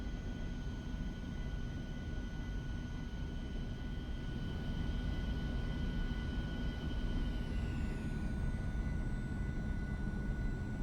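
An Aerobask Eclipse 550NG jet in a flight simulator game gives a steady engine whine and roar with constant tonal hums, and a tone sweeps downward near the end.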